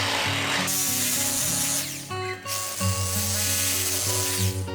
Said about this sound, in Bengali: এটাকে হ্যামার ড্রিল দিয়ে ড্রিল করছে